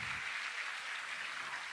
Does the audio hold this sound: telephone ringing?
no